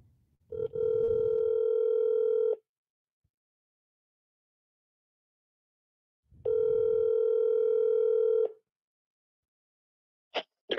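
A telephone line tone plays as two steady, humming tones of about two seconds each, separated by several seconds of silence. A brief click sounds at the very end.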